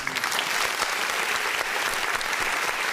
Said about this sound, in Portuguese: Palmas para ele. Palmas.